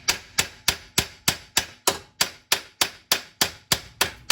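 A hammer strikes the side of a car's steering ball joint in a steady, rapid series of about fourteen sharp metallic blows, evenly spaced and close, with nothing else audible.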